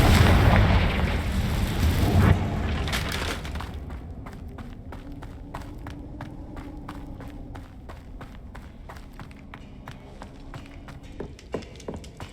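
Confringo blasting spell in Hogwarts Legacy detonates with a loud rumbling explosion at the start, then fades into a low roar under rapid game footsteps and small taps.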